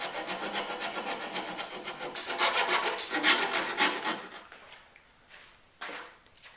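A hand rasp files a wooden guitar neck in a run of short, gradual scraping strokes, close and fairly quiet, with the rhythm loosening near the end and no talking.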